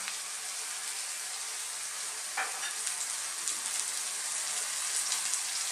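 Bottle gourd sautéed with sardines simmers in a pan, a steady close sizzle with a brief scrape of stirring partway through, with no talking.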